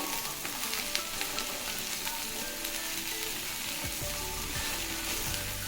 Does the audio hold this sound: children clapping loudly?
no